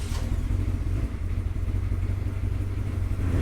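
A salvage-auction Ferrari sits idling with a misfire, a low, steady engine rumble close by with a faint, irregular chug woven into the idle and no talk.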